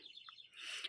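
Small birds chirp in short, faint tweets near a grassy nesting spot, a brief bright call standing out before a louder hiss of sound rises toward the end.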